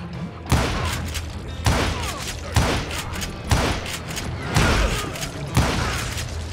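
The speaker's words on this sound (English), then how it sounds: "a fusillade of bullets come raining down from on high" Repeated volleys of gunfire in the Call of Juarez Gunslinger video game, a fusillade of bullets raining down from above, loud heavy bursts arriving roughly every second, each with a sharp onset and a rumbling tail.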